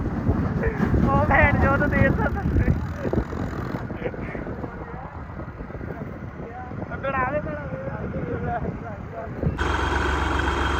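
Massey Ferguson 245 DI tractor engine running steadily with a low continuous rumble and wind buffeting, voices talking over it, and a louder burst near the end.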